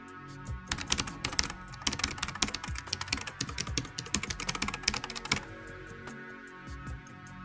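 Rapid typing on a computer keyboard, dense bursts of close, crisp key clicks for several seconds before tapering off to a few stray taps.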